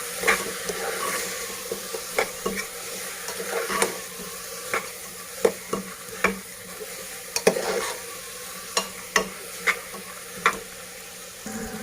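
Lentils being stirred in a cooking pot for Sindhi palak chawal, with soft sizzling and a faint hiss beneath repeated sharp scraping knocks of a spoon against the pot at an irregular pace, close and fairly quiet, no talking.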